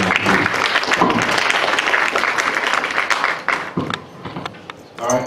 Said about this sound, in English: I want to invite you to give another round of applause.